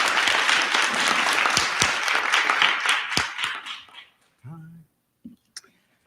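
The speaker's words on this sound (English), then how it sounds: "I think we ought to just commend and clap for all of them" At a county board of education work session, the room breaks into loud, close applause for about four seconds, with individual claps standing out before it tapers off and a voice briefly speaks.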